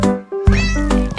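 Kittens give a loud, close meow after a short pause, a single drawn-out mewing call with a brief tail at the end.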